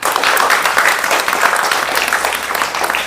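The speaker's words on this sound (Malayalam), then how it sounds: "കൈയടിച്ചേ ചേച്ചിമാരെ" A room full of people claps loudly and continuously, a dense burst of applause without a break.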